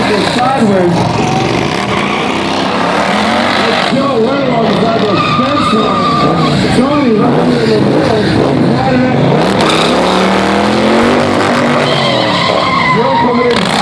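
Polaris Slingshot stunt vehicle spinning sideways near a fence line at a Sturgis 2016 stunt show, loud continuous engine roar and tire skidding with a rising squeal, under crowd noise and an announcer's voice.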